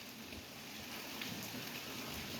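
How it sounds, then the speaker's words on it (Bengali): Steady rain falls outside a house, a continuous even hiss of drops on surfaces with no voices over it. "বাইরে বৃষ্টি হচ্ছে"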